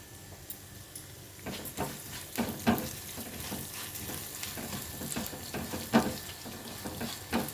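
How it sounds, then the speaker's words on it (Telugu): Coriander seeds frying in a pan for a curry leaf roti pachadi, a steady close sizzle broken by frequent sharp crackles and pops as the seeds are stirred, with scraping from the stirring now and then. "ధనియాలు వేస్తున్నానండి."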